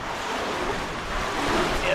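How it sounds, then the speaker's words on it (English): Waterfall inside a cave pours steadily into a deep pool, giving a broad, continuous rushing wash that stays fairly loud and even throughout, with no clear talk over it. "I can hear the waterfall."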